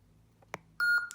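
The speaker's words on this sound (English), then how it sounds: "It'll beep" Electronic beeps from an FG series lightsaber hilt as it switches sound fonts: a short click, then a steady tone and a higher bleep, quiet and close.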